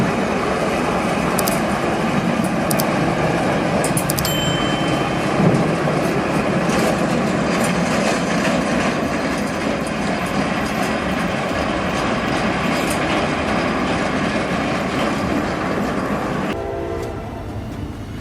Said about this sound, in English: An NS intermodal train thundered through Indiana